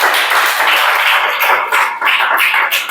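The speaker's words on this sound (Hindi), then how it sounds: "चला ताली बजाओ जल्दी से" A classroom of students claps together in a dense, continuous burst of applause that runs for about three seconds, loud and close.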